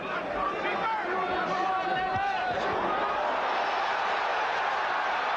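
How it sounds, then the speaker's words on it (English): British fans chant in a boxing arena crowd at a Lennox Lewis versus Tony Tucker heavyweight bout, a dense, steady roar of massed voices heard at a distance, running without a break under a commentator's voice. "right now, the most exciting thing is the chanting from the Brits in the crowd"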